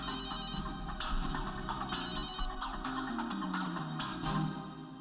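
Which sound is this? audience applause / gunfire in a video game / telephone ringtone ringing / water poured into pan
telephone ringtone ringing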